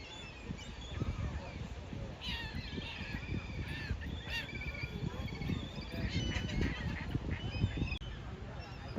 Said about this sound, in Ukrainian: до речі, ще качечки маленькі плавають